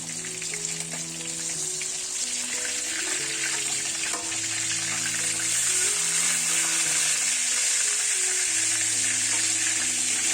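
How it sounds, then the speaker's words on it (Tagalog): Fish fries in oil in a wok or frying pan with a steady, fairly quiet sizzle and crackle that carries on for about ten seconds. No voices are heard. "Fry the fish on both sides until it becomes golden brown"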